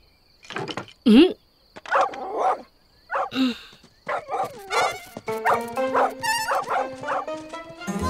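A cartoon dog barks and yips in a string of short, lively barks with whimpering tones, alternating with cartoon voices speaking, loud and close.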